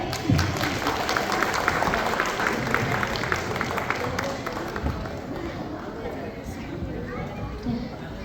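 An audience at a Kannada Rajyotsava 2024 celebration applauds loudly for a teacher, sustained clapping and crowd noise filling the whole stretch at an even level.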